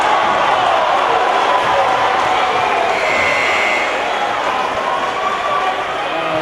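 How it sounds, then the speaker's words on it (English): Kennett home fans cheering a foul call at a high school basketball conference tournament final in a gym, a loud sustained roar of crowd noise with a play-by-play voice over it. "Kennett fans cheer for that one"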